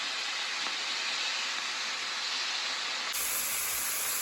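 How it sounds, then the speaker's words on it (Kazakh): Minced meat frying in oil in a pan, giving off a loud steady sizzling hiss that stays constant throughout, close up and without voices. "Фаршымызды жақсылап қуырамыз майға."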